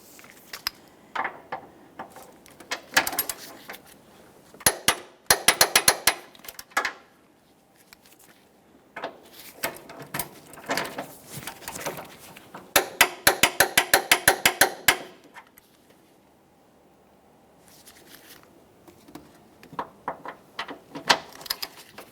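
A torque wrench tightens the transmission mount bolts on a 2012–2015 Honda Civic 1.8L, setting off rapid ratchet clicks in several bursts. Each run of clicks ends in sharper snaps, with quiet pauses between the bursts.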